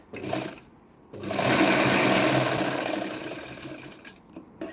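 A sewing machine stitching the shoulder seam of a blouse runs in a steady, close mechanical whir for a few seconds after a short burst, with quiet handling sounds around it.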